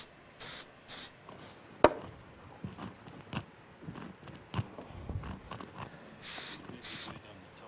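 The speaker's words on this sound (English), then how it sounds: "I just take a nice box, a small box, and I spray inside." Short bursts of spray hiss inside a small box as texture is applied to a strawberry for a plated pastry dessert, two quick sprays at the start and two near the end, with faint handling noises between.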